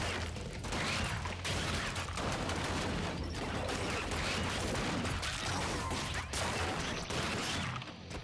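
Grenade launcher fire in the action game ScourgeBringer, a dense run of explosive blasts and crashing impacts that stays loud and continuous throughout.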